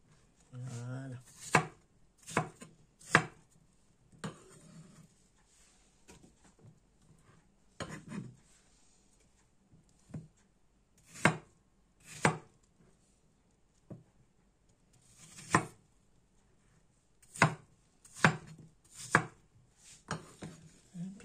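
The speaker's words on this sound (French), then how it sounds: "Et je coupe en grosses tranches." A knife chops through fruit into thick slices on a wooden board, with sharp, close, irregular thuds spaced a second or two apart and quiet handling noise between them.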